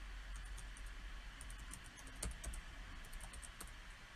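Quiet typing on a computer keyboard, scattered soft key clicks in irregular bursts over a steady background hum, no voices.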